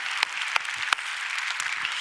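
A church congregation at a Sunday service claps together in a short burst of scattered, moderately close applause with a few sharper individual claps.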